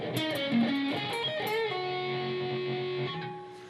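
A distorted electric guitar plays part 7 of a riff at full speed, a quick run of bent and picked notes settling into a long sustained note that fades out, with no voices.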